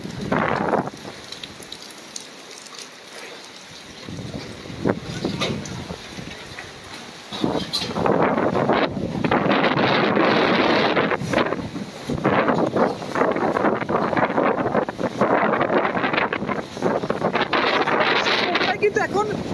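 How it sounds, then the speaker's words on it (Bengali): Strong storm wind roaring and buffeting the microphone with rain falling in Mongla during a cyclone, quieter at first and then surging into loud, sustained gusts that fill the whole scene. "এখন প্রচন্ড বাতাস হচ্ছে, বাতাসের সাথে কিন্তু বৃষ্টি পড়ছে"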